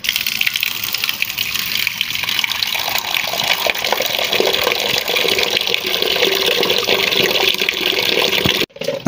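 Water from a bucket is poured onto potted coriander and aloe vera plants, a steady, loud splashing gush lasting several seconds before breaking off abruptly near the end.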